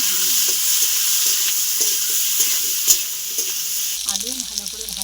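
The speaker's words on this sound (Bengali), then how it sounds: "কাঁচা লঙ্কা, পেঁয়াজের সঙ্গে আমি মাখানো আলুটাও একসাথে ভেজে নেব।" Potatoes with onion and green chili frying in a pan give a steady, close sizzle with repeated stirring scrapes, and a louder clatter near the end.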